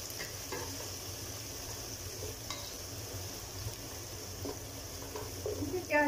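Onions frying in a pan with ginger-garlic paste for bagara rice pulao make a steady soft sizzle, with occasional spoon stirs and a clink of metal near the end, close and moderate in level.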